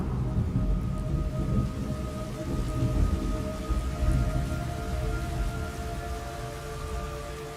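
Steady rain pours down in the video game Metal Gear Solid Delta, with a low rumble of thunder beneath it, a continuous dense wash with faint sustained tones running through it.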